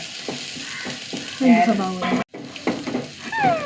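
Onions frying in oil with curry leaves, a steady close sizzle with stirring scrapes, a brief dropout midway and some voice-like tones over the hiss.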